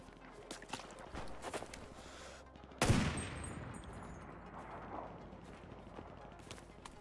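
A single sharp gunshot from the online battle royale game CRSED F.O.A.D., loud and close, followed by a decaying echo, set against ambient game background noise with faint footsteps.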